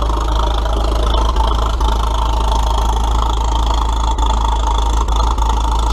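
A small engine runs steadily with added throttle, a constant loud drone with a few faint clicks, no talking.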